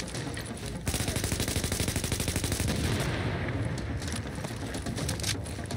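Automatic gunfire in The Division, a shooter game set in a Hudson refugee camp, rattles in a rapid, sustained stream of loud, close shots that barely pause over several seconds.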